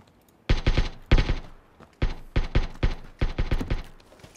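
Bursts of automatic gunfire in PUBG Battlegrounds, about eight close, loud volleys of rapid shots separated by short pauses, with no talking.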